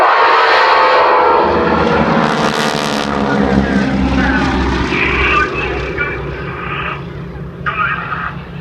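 A vintage biplane's propeller engine drones loudly and steadily in flight during a wing-walking display, a close, rumbling roar with rising and falling pitch, while someone speaks over it.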